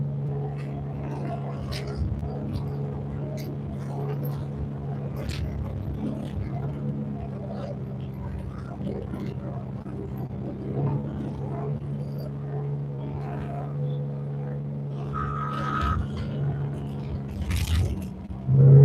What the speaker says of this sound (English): This skid steer is a fantastic little machine.